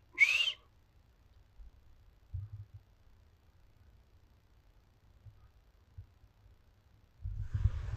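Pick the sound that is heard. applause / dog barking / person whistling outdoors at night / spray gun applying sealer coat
person whistling outdoors at night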